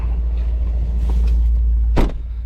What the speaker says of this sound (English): Handle pops out like that.